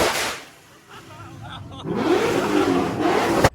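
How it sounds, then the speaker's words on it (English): A Supra engine revs on two-step launch control, a loud raspy roar after a short lull, with the pitch climbing and wavering, the bursts close and sustained, and a voice briefly under the opening noise. "we get to see Richard Supra doing two-step"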